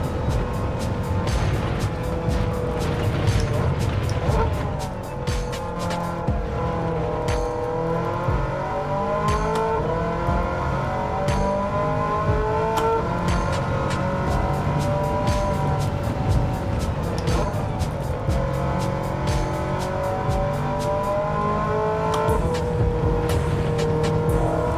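Race car in Gran Turismo 7 with a loud, raspy exhaust note, revving up and down through gear changes with rising and falling pitch sweeps and sharp crackles, continuous and close throughout.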